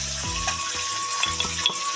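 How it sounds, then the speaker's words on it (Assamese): Fish fries in hot oil in a wok, giving a close, steady crackling sizzle with a few light clinks and scrapes scattered through it. No speech is heard. "এয়া এতিয়া মই তেল দিছোঁ কেৰাহীত, মাছ ভাজিম"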